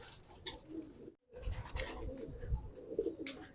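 A racing pigeon entered in a South MacArthur race coos softly and close by, a low throaty murmur repeated over steady background noise with a brief dropout partway through.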